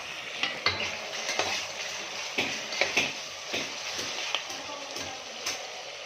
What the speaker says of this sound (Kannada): ಇವಾಗ ಈರುಳ್ಳಿ ಚೆನ್ನಾಗಿ ಫ್ರೈ ಆಗಲಿ